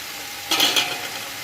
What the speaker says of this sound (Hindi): अब ये सब गोश्त डाल रहे हैं,